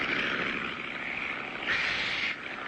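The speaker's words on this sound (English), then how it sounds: "I hear an airplane. Sounds pretty low, too." A propeller airplane in an old cartoon drones steadily as it flies low overhead, its engine a continuous loud hum that swells slightly toward the end, with no talk over it.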